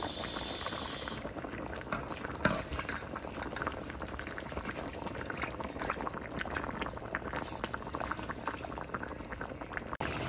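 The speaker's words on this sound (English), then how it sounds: "Adding the rice. 4 cups of rice soaked in water for 20 minutes." Soaked rice going into a boiling pot for salmon biryani: steady, dense rolling bubbling of the boiling liquid throughout, with brief splashy sounds near the start.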